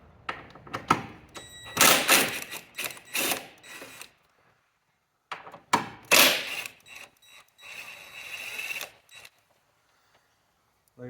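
Ratcheting and rubbing of a wrench on the 13 mm strut top bolts of a 6th gen Camaro, in two bursts of close mechanical clicks and scraping separated by a short pause.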